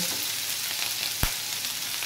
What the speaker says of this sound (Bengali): এবার আমি দিয়ে দিচ্ছি এই যে পেঁয়াজ কুচিটা, পেঁয়াজ কুচিটা দিয়ে আমি একটু ভেজে নেব